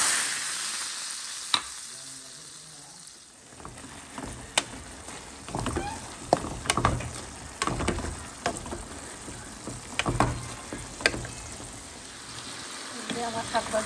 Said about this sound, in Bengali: আমার শাক ভাজি হয়ে গেল।